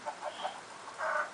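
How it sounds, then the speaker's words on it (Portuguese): Minecraft video game chickens clucking as they are killed: several short, soft clucks in quick succession, then a slightly louder squawk, with no talking. "Os primeiros 3 minutos matando galinha"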